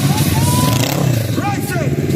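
A motorcycle takes off from the start line at a mountaincross adventure race, its engine revving and rising in pitch nearby over a constant noisy background, with voices in the mix.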